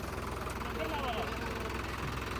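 A brand-new New Holland 3600 tractor idles on its first day of running, with a steady low rhythmic chug and a mechanical hum. People talk nearby over the engine.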